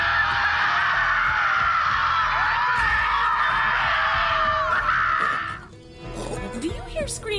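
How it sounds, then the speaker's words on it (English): Dense, sustained chorus of screaming voices in Borderlands 3, loud and continuous for about five seconds before cutting off, followed by a brief quieter stretch of game sounds with some warbling tones. "Do you hear screaming, or am I having another one of my episodes?"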